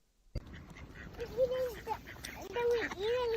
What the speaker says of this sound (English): I have never seen a duck so angry before.